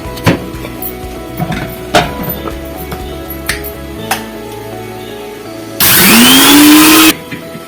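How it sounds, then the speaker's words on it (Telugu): A mixer grinder grinding ridge gourd chutney whirs loudly for about a second and a half, its pitch rising as it spins up, after scattered clinks and knocks. "ఈ లోపల ఇది గ్రైండ్ చేసేస్తాను నేను"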